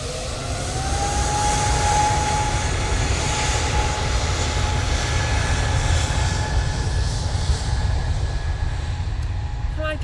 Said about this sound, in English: Virgin Atlantic now departing.